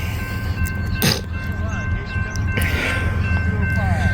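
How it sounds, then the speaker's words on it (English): A train passing a level crossing at Pearson Road with the gates down, steady tonal ringing over a low rumble of the rail traffic and a couple of brief louder bursts. "Got a train coming down the line."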